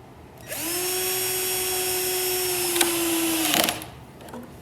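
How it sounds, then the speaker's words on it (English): A power drill drives a screw while drawer slides are installed, a steady whining motor run of about three seconds that rises, changes pitch near the end and then stops, loud and close with no talk. "I'm going to put a screw in up front"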